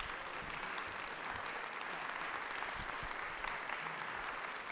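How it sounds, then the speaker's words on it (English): Conference audience applauding a panel on law enforcement strategies, a steady, dense wash of clapping from a crowd filling the whole stretch at even loudness. "If you would please give our panelists a round of applause."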